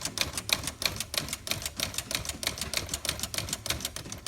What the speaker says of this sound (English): we'll just show you the backspace